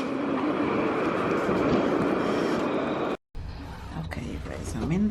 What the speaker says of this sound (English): Tram passing.